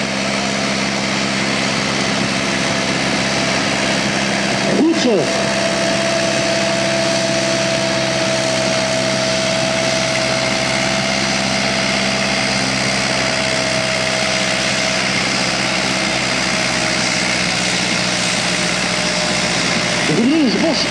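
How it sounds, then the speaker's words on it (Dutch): A pulling tractor built in East Germany during the GDR era runs at low revs at a tractor pulling event, a steady engine drone throughout with a brief voice near the start. "En deze motoren lopen heel laag in toeren."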